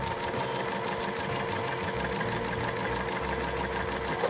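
A sewing machine runs steadily, stitching two quilt pieces right sides together into a four patch, its needle tapping in a fast even rhythm close by with no pause.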